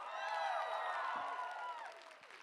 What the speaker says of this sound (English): Let's have a big round of applause for how much we're loving on ourselves today.